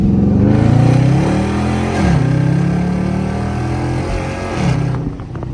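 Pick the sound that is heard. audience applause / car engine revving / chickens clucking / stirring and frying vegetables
car engine revving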